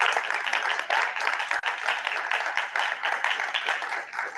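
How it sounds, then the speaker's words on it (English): Sustained crowd applause for an MC at a Rotary club meeting, dense steady clapping from a large audience that holds at an even level throughout with no voices. "So please give a round of applause"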